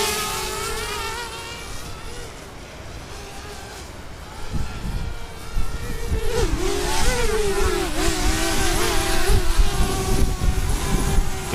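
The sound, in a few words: DJI Spark drone with cheap third-party propellers spinning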